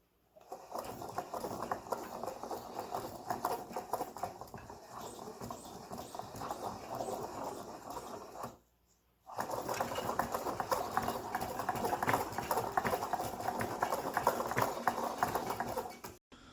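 A wooden worm gear driving an angled-tooth wooden spur gear model runs with a steady, busy clatter of rhythmic clicking, broken by a brief pause partway through before the motion resumes and continues to the end.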